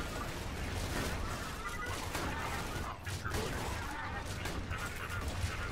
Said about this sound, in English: I'm throwing my exploding grenades everywhere.